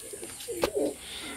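A Pakistani teddy pigeon coos in a short, close murmuring phrase with a soft rising and falling tone, heard on its own against light background hiss.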